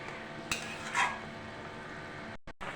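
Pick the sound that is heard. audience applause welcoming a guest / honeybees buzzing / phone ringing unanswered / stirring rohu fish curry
stirring rohu fish curry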